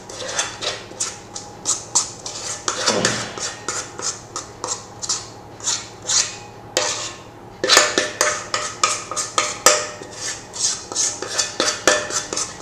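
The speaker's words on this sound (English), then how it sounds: "One last mix with my spoon like this, and here is my baking dish" A spoon mixing batter for a New Year's Vasilopita pie and scraping it into a baking dish, giving rapid rhythmic clinks and scrapes of metal against the bowl and dish, close and fairly loud, with no talking.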